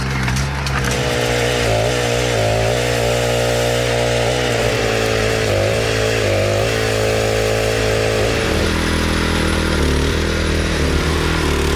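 A tractor-driven Jobo WP50 Woodpecker delimbing and firewood machine runs with a loud, steady engine drone and harsh mechanical whine that shifts in pitch as it works, continuous and close throughout.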